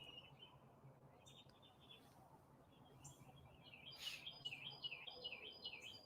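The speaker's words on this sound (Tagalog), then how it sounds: "sabi ni Ma'am Maylin, naririnig kong huni ng mga ibon." Birds chirp and tweet outdoors among trees in a high, fluttering chorus that grows busier and a little louder toward the end, over a low steady background hum.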